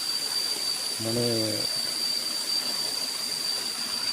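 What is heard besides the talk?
waterfall at Ban Huai Huat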